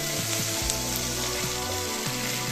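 Raw vegetable pieces, including drumstick, green chili, sweet potato and bottle gourd, fry in hot oil with a loud, steady sizzle that continues unbroken throughout, with no talking.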